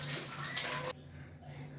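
Cauliflower rinsed under a running tap in a home kitchen, a loud steady gush of water that cuts off abruptly partway through, leaving a quiet room hum behind.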